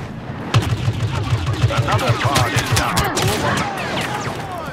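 Rapid gunfire in the video game Star Wars Battlefront, with dense overlapping blaster shots and bursts crackling loudly and continuously, heavy thumps underneath, all close and busy.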